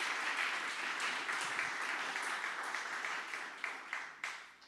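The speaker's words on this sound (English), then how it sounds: "let's give another round of applause for the kids who did such a great job." Audience applause at the grand opening of the Eternal Gandhi Museum in Houston, honoring children: steady, dense clapping from a crowd that keeps an even level, with a few louder individual claps near the end.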